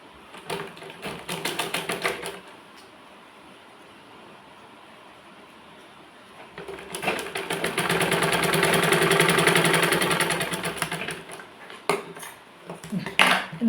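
A sewing machine stitching a blouse runs in two bursts of fast, even mechanical clatter, one short and one long and loud, with a quieter pause between.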